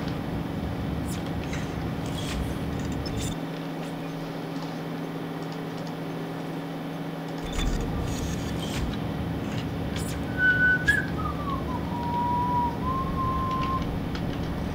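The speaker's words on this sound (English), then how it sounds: "That's a good whistling." A person whistles a brief, wavering tune that slides down in pitch, heard over a steady room hum with game background noise; the whistle is faint and lasts only a few seconds near the end.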